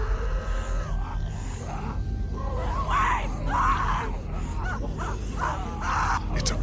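A girl screaming in the game The Walking Dead, several strained, wailing cries rising and breaking over a low rumbling background, moderately loud and a little distant.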